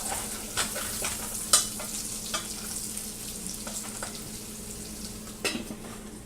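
Bacon stuck to the bottom of a pot for clam chowder is stirred and scraped, producing a steady low sizzle with scattered utensil scrapes and clinks against the pot, close up and with no talking.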